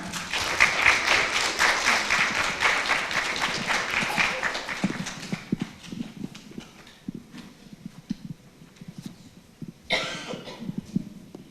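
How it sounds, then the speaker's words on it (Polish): Audience applause at a district culture festival in the Opole region, a strong burst of crowd clapping that fades after about five seconds into scattered claps, footsteps and coughs, with a short swell near the end. "Wielkie brawa!"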